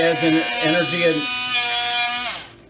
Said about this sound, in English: anybody who's used a Dremel will know it takes a little bit more to cut through, and this metal does take a while